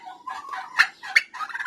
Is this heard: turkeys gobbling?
yes